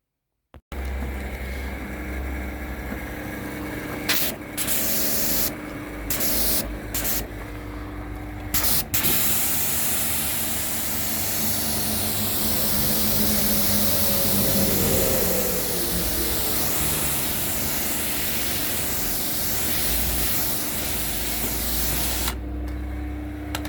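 A pressure washer fitted with a short stubby spray gun blasts a steady, loud hissing spray that runs almost unbroken, with a few brief gaps early on before continuous spraying.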